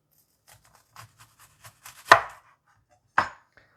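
An onion is chopped with a knife on a board: a run of soft, light taps followed by two sharper, louder chops, close up and with no speech.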